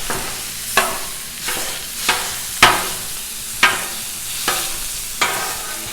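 Burger meat sizzles on a Blackstone flat-top griddle as a metal spatula chops and flips it, with sharp scraping strikes landing about once a second over a steady frying hiss, close and fairly loud.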